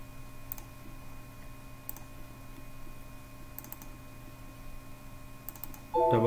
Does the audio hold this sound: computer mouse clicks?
yes